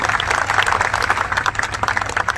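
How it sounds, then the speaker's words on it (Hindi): Applause from the audience at a university speech in a hall: dense, steady clapping throughout, fairly loud and close, with no talk over it. "एक बार जोरदार तालियां होनी चाहिए।"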